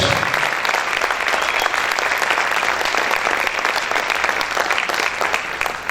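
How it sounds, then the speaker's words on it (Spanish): A church congregation claps loudly and continuously, a dense, steady wash of applause that fills the whole stretch without a break. "Vamos a aplaudir fuerte al Señor."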